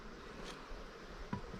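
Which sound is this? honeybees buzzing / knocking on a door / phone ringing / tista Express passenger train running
honeybees buzzing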